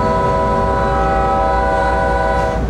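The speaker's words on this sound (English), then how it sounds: "our 650 train is gaining speed again" A freight train hauled by General Electric engines gains speed, loud and close, with a sustained droning tonal hum and continuous rolling rumble underneath.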